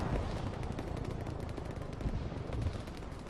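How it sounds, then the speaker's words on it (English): Dense, distant gunfire in the video game Arma 3 crackles nonstop in rapid overlapping bursts, like a battle raging some way off, with no pauses. "once again, just listening out for gunfire"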